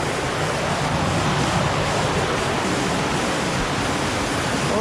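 Small waterfall in a canyon on Vancouver Island, a steady, loud, broadband rush of falling water up close, unbroken for the whole stretch with no voices.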